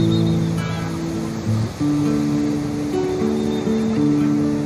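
Steady rushing ocean surf fills the background at a beach during a Javanese royal palace labuhan offering ceremony, overlaid by a sustained tonal hum of chanting or instruments.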